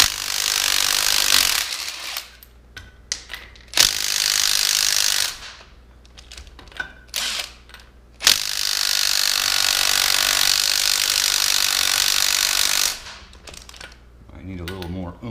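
A ratchet works a wheel off a 2003 Chevy Tahoe, heard as close, loud bursts of clicking and grinding in long runs separated by short pauses and scattered clanks, with no talk.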